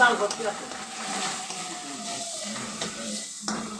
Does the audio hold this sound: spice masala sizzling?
yes